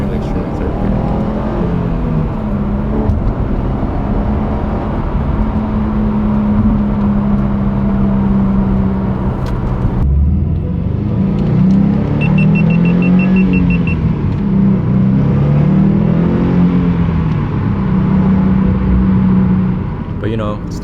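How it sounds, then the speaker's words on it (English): A Subaru WRX STI rolls through its gears from inside a quiet cabin, its engine a steady low drone that drops off briefly at a shift before climbing again, with road rumble underneath and a faint beeping partway through. "just hearing the car as you roll through its gears can be extremely therapeutic"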